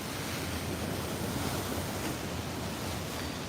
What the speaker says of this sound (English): You hear those waves?